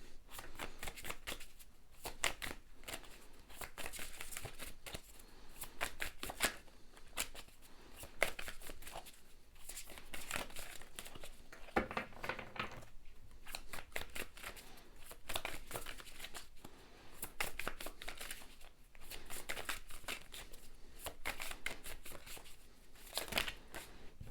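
A deck of tarot cards is shuffled quietly and continuously for about twenty seconds, with soft repeated riffles and papery crinkling close up and no talking.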